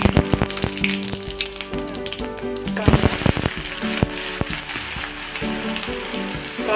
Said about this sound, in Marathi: तेल गरम करत ठेवले, त्याच्यामध्ये आता मोहरी आणि जिरं टाकून घेऊया।